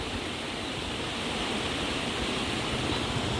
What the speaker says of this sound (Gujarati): ચલ્યો વેકરામાં પાણી